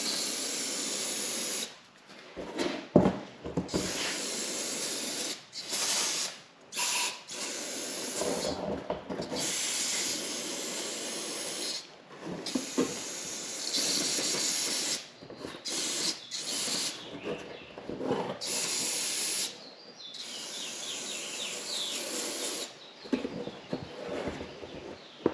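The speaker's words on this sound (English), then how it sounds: "we'll get the outside of this carb sprayed down. Get all the gunk off of it." Cleaner is sprayed onto the outside of a Toro (Suzuki) generator carburetor in repeated hissing bursts of varying length, separated by short quiet gaps, close up with no speech.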